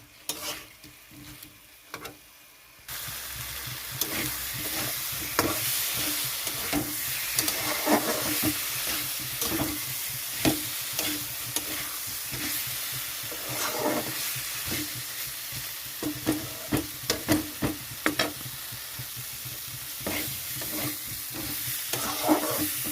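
Spice masala and potatoes sautéing in a pan for mocha dhoka, a steady broadband sizzle with repeated scraping stirs of a spoon against the pan, close and continuous after a brief quiet start, with no talk.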